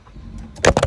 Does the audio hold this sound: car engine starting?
yes